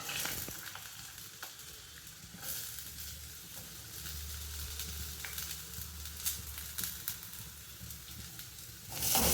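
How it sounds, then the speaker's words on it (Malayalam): Chopped onion sizzles steadily in a hot pan as the base for sweet corn soup, a continuous close frying hiss with a few soft stirring scrapes and no talking. "അപ്പോൾ നമുക്ക് ആദ്യം സവാള ഇട്ട് കൊടുക്കാം."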